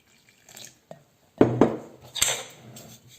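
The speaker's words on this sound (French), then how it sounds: "Allez, on remue tout ce qui est sec." Dry bread dough ingredients stirred in a bowl as water goes in, heard as a few short, close scrapes and knocks in uneven bursts separated by near silence.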